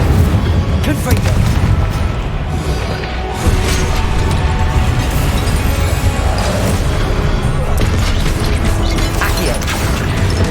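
Loud, dense blasts and crashing booms from the Confringo explosive spell in Hogwarts Legacy fill the scene continuously, layered with game effects and spoken spell incantations.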